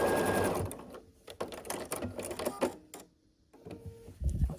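A sewing machine stitches across rows of a scrappy quilt block in short close bursts with brief pauses, near and clear with no talk.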